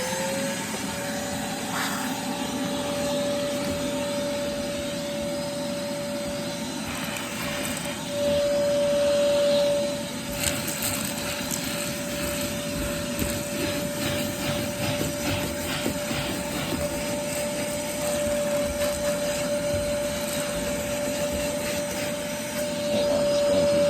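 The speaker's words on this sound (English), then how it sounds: "So vacuum is going to be on." A vacuum cleaner runs continuously while cleaning a very dirty car interior with stains embedded in the carpet, a loud steady whine and hiss with a sustained tone, changing slightly as the nozzle moves.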